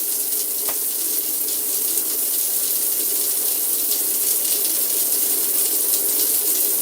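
Shower water runs in a steady, even hiss, loud and close, with no breaks or voices across the stretch.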